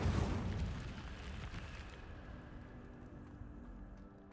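An Incendio fire spell cast in a video game bursts with a sudden, deep whoosh that settles into a rumbling, crackling roar and fades slowly over about four seconds, quiet overall, with no voices.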